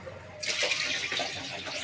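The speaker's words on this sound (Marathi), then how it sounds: "त्यात थोडं पाणी टाकतो वाटतं" Water is poured into a cooking pot as corn is readied for boiling, a short splashing pour that starts abruptly and runs for about a second and a half, close by.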